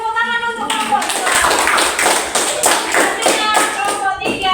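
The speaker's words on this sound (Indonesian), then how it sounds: "tepuk tangan untuk kelompok 2" Classroom clapping for a student group, a burst of many small hands tapping together in a quick uneven patter for a few seconds after a teacher's voice, ending with another brief voice.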